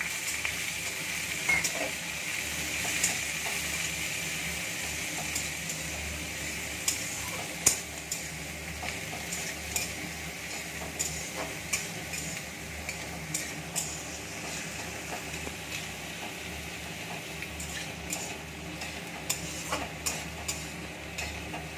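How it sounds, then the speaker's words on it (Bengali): Onions frying in hot oil with garam masala for a chicken dish, a continuous close sizzle broken by frequent ticks and scrapes of stirring. "তারপরে পেঁয়াজটা দিয়ে দিচ্ছি। পেঁয়াজটা ভাজবো।"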